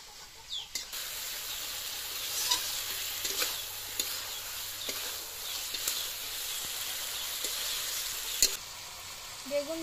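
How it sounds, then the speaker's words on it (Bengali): Brinjal fries with spices in a pan over a village cooking fire, a continuous close sizzle broken by scraping stir strokes, while a rooster and other birds call faintly in the background. "বেগুন ভালো করে মশলা দিয়ে কষে নিয়েছি"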